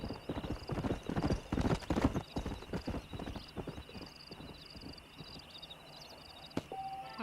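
Horse hooves clip-clop in Red Dead Redemption, a steady walking rhythm that is loud at first and then fades to softer steps, with a brief whinny-like sound near the end.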